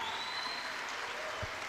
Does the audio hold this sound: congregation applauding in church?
yes